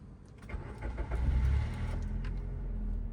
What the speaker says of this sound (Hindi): आप इंजन ऑन करिए